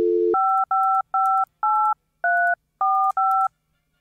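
A phone in the horror game Babysitter Bloodbath dials a number, giving a short low tone and then seven crisp two-pitch keypad beeps in an even rhythm, heard clearly with no talk over them.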